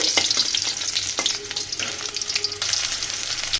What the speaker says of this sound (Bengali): রসুনগুলোকে আমি ভেজে নিচ্ছি